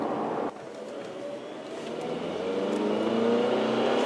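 A Hyundai Sonata Hybrid's engine rises steadily in pitch and loudness as the car accelerates, a continuous building drone heard from inside with no talk.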